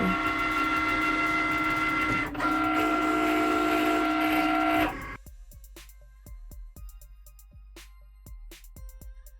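Cricut cutting machine slicing premium vinyl for glass mug etching gives a loud, steady whirring motor drone with tonal whine for about five seconds, then stops, leaving scattered sharp clicks and taps.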